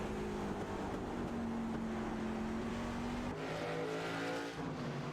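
A race car's engine climbs steadily in pitch as it powers out of a corner, loud and continuous, then shifts into a new gear and keeps pulling hard.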